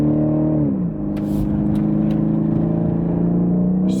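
BMW M850 xDrive V8 engine pulling hard from inside the car, a steady loud rumbling drone with a pitch drop near one second as the driver lifts off, followed by a few faint exhaust crackles.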